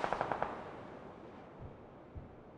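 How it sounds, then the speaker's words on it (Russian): Gunfire in a competitive CS:GO-style shooter match: a quick burst of about five sharp shots at the start, then a couple of duller, distant thuds, moderately loud with no talk. "Куча стрельбы."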